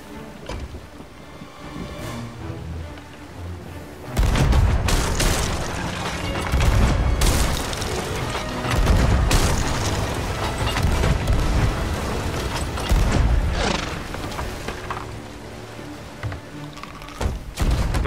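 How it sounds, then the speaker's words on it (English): An enemy ship fires its cannons during a naval fight in the pirate game Sea of Thieves, a volley of deep booms and thuds landing in rapid succession, loud and close, with quieter ambience before the barrage begins. "They're firing at us."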